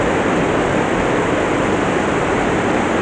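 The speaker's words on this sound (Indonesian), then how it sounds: "Nah itu air terjunnya teman-teman." The waterfall at Curug Putri Palutungan gives a steady, loud, broadband rushing roar that holds unbroken throughout. No voices break through it.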